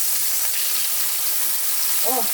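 Eggs sizzle and crackle in hot oil in a pan over high heat, a steady loud frying hiss, with a short tonal clink or voice near the end.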